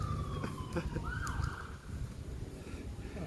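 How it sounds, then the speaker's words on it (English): A fire truck siren wails through a passing sweep, its pitch gliding down as it goes by amid outdoor background noise near a lake trail, with a rising and falling tone fairly loud over a continuous ambient roar. "No, that's a fire truck."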